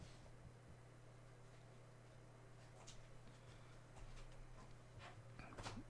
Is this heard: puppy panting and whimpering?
yes